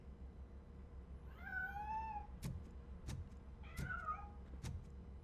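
A cat in RoboCop: Rogue City meows twice in drawn-out, wavering cries, separated by sharp clicking footstep-like hits, over a quiet low game ambience.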